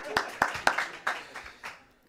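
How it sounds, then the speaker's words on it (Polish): A handful of separate, sharp hand claps from a small audience at a Polish retreat talk, spaced irregularly and fading out, with some voices faintly underneath. "Brawa za wytrwałość."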